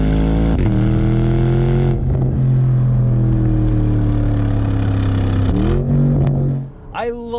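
Porsche Cayenne GTS V8 exhaust launching at full throttle, a loud snarling roar that climbs steadily in pitch, drops briefly at a gear change, rises again and then cuts off, with a short voice exclamation at the end.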